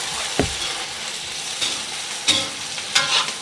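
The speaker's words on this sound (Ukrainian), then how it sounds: "І знову не забуваємо що перемішати." Meat for Asian plov fries in hot oil with a steady sizzle, broken by several scraping stirs of a utensil across the pan, close and fairly loud with no voices.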